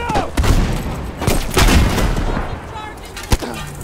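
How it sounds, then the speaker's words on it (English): Battlefield V combat with several sharp booms and gunfire bursts, one heavy explosion among them, loud and close with brief radio-style voices in between. "Grenade going out!"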